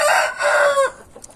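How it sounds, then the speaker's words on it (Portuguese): A rooster crows once, close and loud, a harsh two-part cock-a-doodle-doo that cuts off sharply, followed by faint farmyard noise. "É um galo bom."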